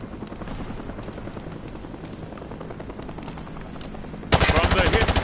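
Gunfire from the hip in a video game: a steady, rapid rattle of shots over a low engine drone, then a much louder, harsh burst of close automatic fire near the end. A voice can be heard briefly.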